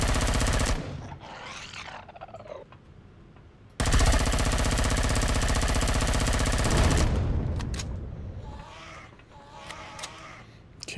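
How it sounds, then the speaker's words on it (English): A big mounted gun firing in Empyrion Galactic Survival, long rattling bursts of rapid, hammering shots, loud and close, broken by a short pause and followed by scattered quieter combat sounds. "Trying to conserve the ammo on the big gun."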